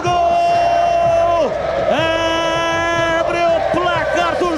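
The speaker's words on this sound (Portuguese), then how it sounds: "Torcida vibra, vibra, da pele até o osso" Football crowd roaring for a Ponte Preta goal against Vila Nova at the Majestoso stadium, a loud sustained chant and cheer with a commentator's voice riding over it.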